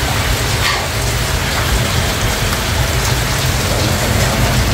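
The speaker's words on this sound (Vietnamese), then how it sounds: "hôm nay mưa quá" Heavy rain pours down in a dense, steady roar, loud and close, with no voices.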